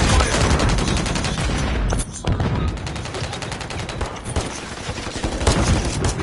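Sustained loud gunfire in a military shooter video game, rapid overlapping automatic bursts and shots filling the whole stretch with only a brief dip, heavy and continuous throughout.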